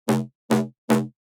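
A synth wobble bass top layer played without its sync warp mode. Three punchy, buzzy stabs of equal length sound close together in a steady rhythm with brief gaps of silence between them.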